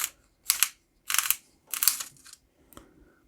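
Several rough grinding bursts of a Dixon Primary Printer No. 2 pencil turning in a handheld sharpener, close and crisp, followed by a short final scrape.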